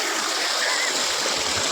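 Steady, dense rush of falling water at Thenmalai Athipattu Falls fills the clip, a constant broadband roar close by with no pauses.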